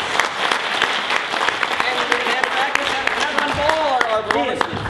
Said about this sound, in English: have a round of applause for our expert on making props for FASS